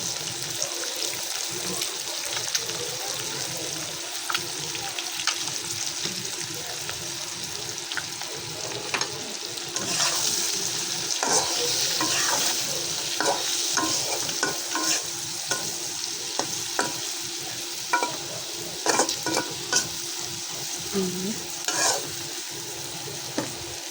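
Onion and chili frying in mustard oil, a continuous crackling sizzle with frequent stirring scrapes and clicks, up close, with faint water noise in the background.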